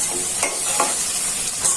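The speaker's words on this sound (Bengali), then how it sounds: "বেগুনটা তেলে ভাজা নিতেছি।" Eggplant frying in hot oil for a Bangladeshi bharta, a continuous close sizzle with faint stirring scrapes and no voices.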